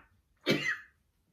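A single short cough, close and fairly loud, rising sharply and fading within about half a second against near silence.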